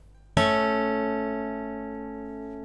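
A single piano-like chord of two notes, a major third, struck once and left to ring, decaying slowly in otherwise quiet surroundings.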